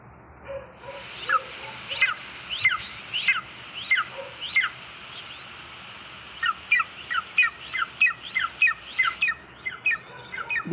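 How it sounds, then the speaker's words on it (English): Golden eagle calling, a series of short, high, thin yelping notes repeated in irregular bursts, moderately close and alone with no talk. "Now let's see about the golden eagle's call"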